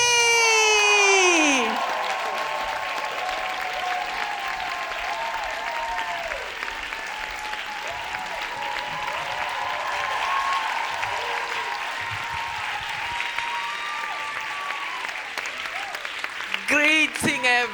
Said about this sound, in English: want you to give a big applause for